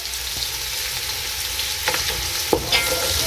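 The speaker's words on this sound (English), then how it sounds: "So fry your onions until they are golden brown or whatever translucent in color" Onions frying in a pan for beef stew, a close steady sizzle with a few sharp clinks and scrapes as a utensil stirs them, no talking.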